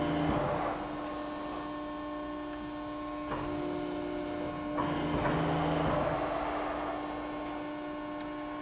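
A Cincinnati 90CBX8 90-ton press brake with a 120-inch bed runs with a steady electric hum and whine. A few soft mechanical clunks and shifts occur partway through. No one speaks.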